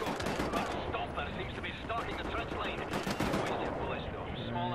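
Dense small-arms gunfire in the shooter game Wolfenstein: The New Order, a continuous, loud clatter of rapid shots and overlapping bursts with no pauses.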